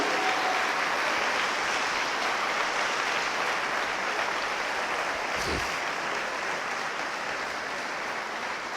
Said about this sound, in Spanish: Dele un buen aplauso a Él.